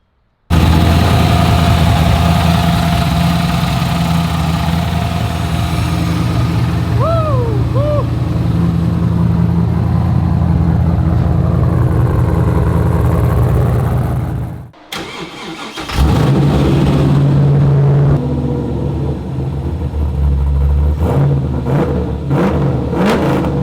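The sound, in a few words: Nissan 240sx car engine at high idle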